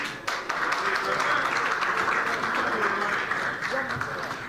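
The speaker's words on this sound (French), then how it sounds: "Vu de loin, sous vos applaudissements." An audience at a concert event applauds in a dense, continuous wash of clapping that stays fairly loud and steady throughout, with voices mixed in under it.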